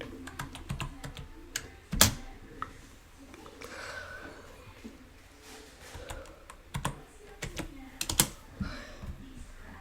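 Computer keyboard keys clatter in irregular bursts while text is typed into the Scratch coding editor, with a few louder key strikes standing out against a quiet room.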